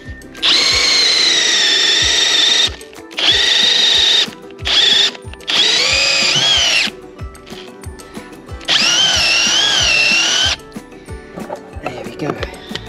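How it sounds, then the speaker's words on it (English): A power drill whines in four long bursts separated by short pauses, loud and close, drilling at a downward angle into a raised garden bed, its pitch shifting slightly as it bites in. "start off straight and then slightly cant the drill."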